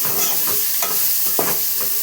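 Five or six garlic cloves sizzle in a pan for a Rayalaseema-style gongura chutney, with a spoon scraping and stirring in repeated close strokes over a steady frying hiss; no voices.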